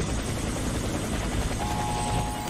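Helicopter in the video game Warface, a steady loud rotor and engine roar that fills the whole stretch without pause, with no talk over it.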